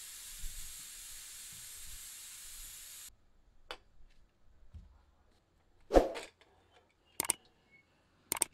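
Pressure cooker on the stove hissing as it cooks desi chicken biryani, a steady steam hiss that cuts off abruptly, followed by a few sharp bursts of venting and faint clicks in near silence.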